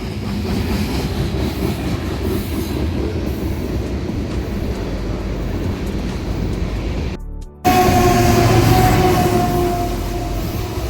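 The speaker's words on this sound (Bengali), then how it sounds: "তার উল্টো পাশে মালবাহী ট্রেন চলে যাচ্ছে" A long freight train rumbles steadily past nearby at White Rock Beach, with a continuous rolling clatter, briefly cut off partway before resuming loud.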